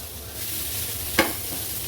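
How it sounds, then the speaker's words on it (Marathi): Onion and tomato fry in a pan with a soft, steady sizzle, joined by one quick stirring scrape midway; no voices. "कांदा आणि टोमॅटो मस्त आपला फ्राय झालेला आहे"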